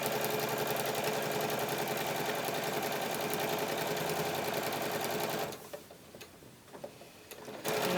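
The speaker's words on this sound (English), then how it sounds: "this time I'm just going to back stitch just a little bit to just make sure those stitches stay put." A sewing machine back stitching a quilt binding hums in a fast, even mechanical rhythm for several seconds, then stops abruptly, leaving faint handling noises and quiet clicks.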